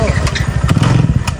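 A motorcycle engine revs loud and close during a ride, a rapid throbbing putter with pulsing bursts of throttle throughout the short stretch.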